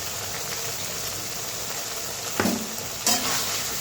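Pointed gourd, potato and paneer fry with turmeric and salt in a pan, making a loud, constant sizzle up close, with two brief clanks as the mixture is stirred.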